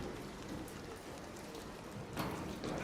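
Steady rain in the video game ARC Raiders hisses evenly throughout, a dense wash of drops on surfaces with a slight swell near the end and no voices.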